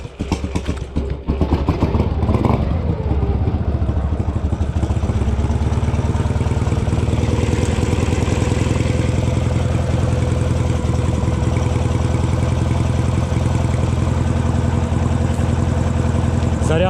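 A motorcycle engine runs at high revs, a loud, dense, continuous drone with a mechanical clatter that holds steady throughout.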